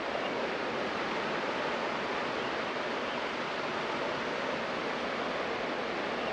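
Fast river water rushes over the top of a rock in a steady, dense roar of white noise that holds unbroken throughout, close and loud with no voices.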